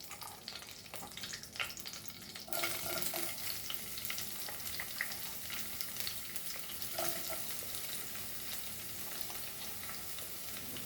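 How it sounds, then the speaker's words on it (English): Chopped onion sizzles in a pan with Goan pork chouriço sausages, a steady hiss that swells louder after a few seconds and stays even, with faint scraping in between. "Now we'll add our onion to this."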